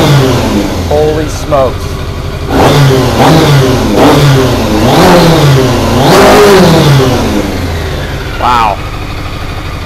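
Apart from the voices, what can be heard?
600cc motorcycle engine revving in a crosskart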